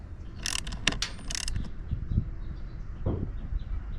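A throttle lever is being bolted in place during a RIVA throttle lever and IBR install. Close metallic ratcheting and clicking bursts come first, followed by quieter scraping and tightening sounds.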